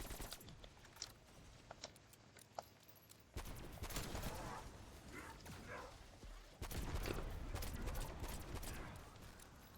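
An AK rifle fires in a zombies video game: sparse shots at first, then two long rapid bursts of automatic fire that crackle in quick succession, loud and close.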